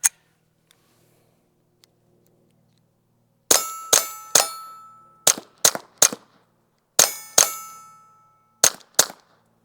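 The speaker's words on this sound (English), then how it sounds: "So hitting the backstop, louder than the gun." Retay Arms RXP 22 rifle firing CCI Quiet subsonic rounds into a backstop: eight sharp, ringing cracks in quick irregular pairs and singles after a quiet start, each decaying briefly, close and loud with no talk.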